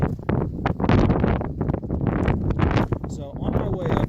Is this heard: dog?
no